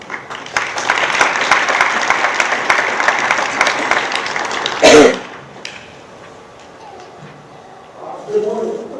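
Loud, dense audience applause fills a Brandon Valley High School mid-year graduation ceremony for about five seconds, then ends abruptly, and a single voice speaks over the quieter room.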